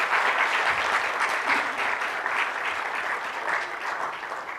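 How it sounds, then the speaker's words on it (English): Sustained applause from a conference audience at a foundation's first annual event, dense steady clapping filling the whole stretch at moderate loudness with no voices over it. "Please give a round of applause"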